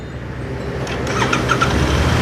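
A Royal Enfield Interceptor 650 motorcycle from 2019 with stock exhaust cranks and catches, settling into a rising, steady idle rumble with a brief squeal at the start.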